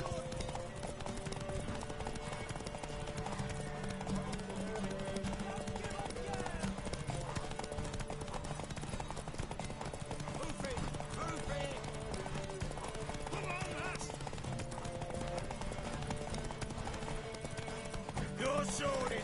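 Steady rhythmic hoofbeats of a galloping horse in a video game continue throughout, mixed with game sounds and voices talking over them.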